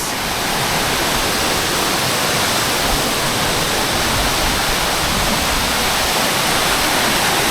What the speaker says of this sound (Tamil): Upcotல Fairlawn waterfalls.